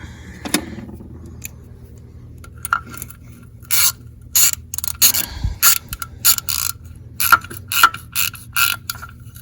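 A ratchet tightening the nut on the idle air control valve of a 1986 BMW 635CSi, with a quick run of clicking pawl bursts in a steady rhythm, close and fairly loud.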